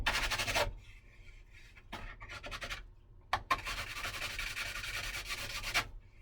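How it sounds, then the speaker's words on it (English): A surface sanded by hand close up, in bursts of rapid back-and-forth rubbing strokes with a couple of short gaps and sharp knocks between them. "You gotta sand it good now"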